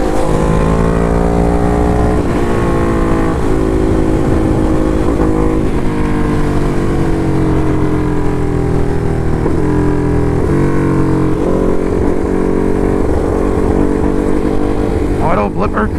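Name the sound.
Ducati Hypermotard 698 Mono motorcycle riding with quick shifter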